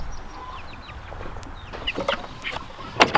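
Backyard chickens, young and grown birds together, cluck and chirp softly near a feeder, with scattered pecks and rustling throughout.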